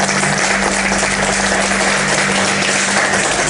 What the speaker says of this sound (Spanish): Te brindamos este fuerte aplauso de despedida